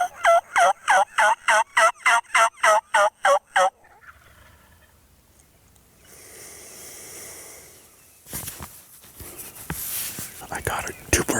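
Wild turkeys, a few dominant toms among hens, gobble in a rapid run of about a dozen strong, evenly spaced calls. Quieter rustling and hushed whispering follow, and a louder scuffling noise comes at the end.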